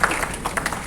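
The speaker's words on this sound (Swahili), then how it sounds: "Pigia makofi tafadhali" Audience at an official ministerial event breaking into brief applause, a dense patter of many hands clapping together in a hall for about a second.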